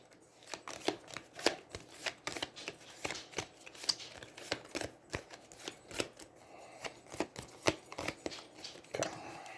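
Playing cards shuffled repeatedly during an Aeons End tabletop card game, a steady series of crisp riffling bursts close to the mic, with no talking.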